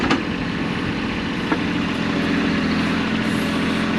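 A tractor engine idles steadily while the machine reverses slightly during land clearing, a continuous close rumble with a brief knock midway.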